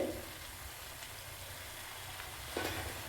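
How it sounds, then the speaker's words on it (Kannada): Dill leaves cook with masala in a pan, a soft, steady sizzle heard fairly faintly. Brief stirring scrapes come at the start and again near the end. "ಸಬ್ಬಸಿಗೆ ಸೊಪ್ಪು ಮಸಾಲೆ ಜೊತೆ ಬೆರೆತ್ಕೊಂಡು ಚೆನ್ನಾಗಿ ಹಸಿ ವಾಸನೆ ಹೋಗೋ ಥರ ಬೆಂದ್ಕೋಬೇಕು."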